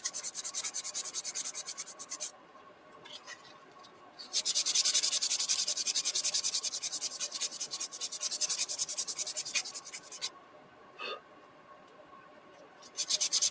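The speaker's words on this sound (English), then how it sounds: "Take a while to get that sanded smooth." A cast resin piece is sanded smooth by hand with rough, rapid rubbing strokes, loud and close. The sanding breaks off briefly twice before resuming, and no one talks during it.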